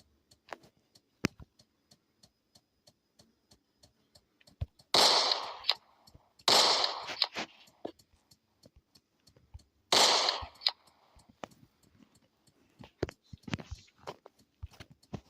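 Gunshots from a new gun in the Chicken Gun video game ring out as three loud, sharp bursts with short decaying tails, set among many faint clicks and ticks, with no talking.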